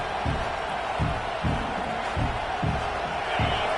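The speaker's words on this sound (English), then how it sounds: "It's early, but this crowd is fired up. Listen to this noise here." A football stadium crowd roars continuously early in a game, a dense wash of cheering with rhythmic low thumps, steady and loud throughout.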